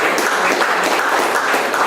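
Dense, steady round of applause from an audience at a 1 Million Cups startup pitch gathering in Tampa Bay, close and loud throughout without a break.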